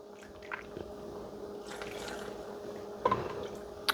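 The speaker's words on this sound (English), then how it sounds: "now we're going to put some broth in there and fill it to, just like the other one, 1 inch from the top." Broth being poured into a canning jar of greens, a soft continuous liquid trickle with a few small splashes and drips, close up and fairly quiet, with no talking.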